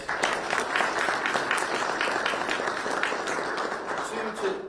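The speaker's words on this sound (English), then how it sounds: "I want to give them a round of applause." Audience at a police department press conference in Lynchburg applauding, a steady dense wash of clapping lasting several seconds at moderate volume, fading slightly toward the end.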